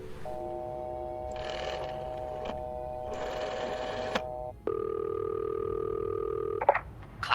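Electronic telephone ringing in the video game This Bed We Made: repeated bursts of a trilling ring with steady tonal lines, then a different sustained ringtone, loud and alone with no talk.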